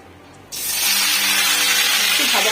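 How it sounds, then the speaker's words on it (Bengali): Marinated meat hits hot oil in a pan and sizzles up at once, a loud broadband hiss that swells and holds steady to the end. "শুধু মাংসগুলো দিয়ে দিচ্ছি,"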